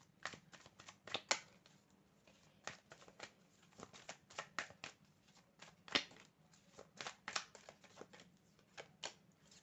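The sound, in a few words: tarot cards being shuffled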